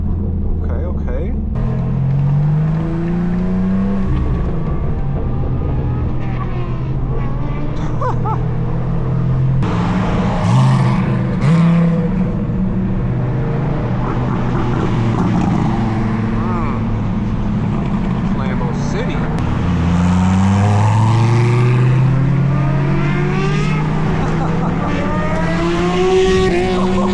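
A tuned 700 hp BMW M4 G82 with a loud exhaust revs and accelerates through the gears while chasing supercars, engine pitch rising and falling repeatedly, close and continuous, with people talking over the roar.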